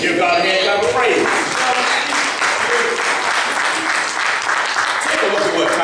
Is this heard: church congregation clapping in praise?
yes